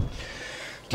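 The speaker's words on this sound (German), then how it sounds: "Mal Tür zu, Entschuldigung." A car door on an electric car at an owners' community meet in a trade fair hall closes with one solid, close thud after a second of quiet interior hum.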